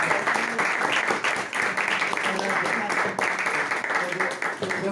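Audience applause at a book launch presentation, a dense wash of many hands clapping steadily across the whole stretch, fairly loud and close, with a murmur of voices mixed in.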